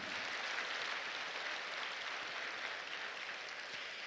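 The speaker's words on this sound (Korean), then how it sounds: "우리 한번 박수로 하나님께 영광 올리겠습니다" Congregation at a prayer meeting clapping together to give glory to God, a dense, steady roar of applause heard from a distance throughout, with no clear voices.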